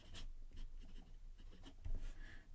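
A Visconti Rembrandt fountain pen with a fine steel nib scratches softly across paper in a few short, quiet strokes, close and alone in a hushed room.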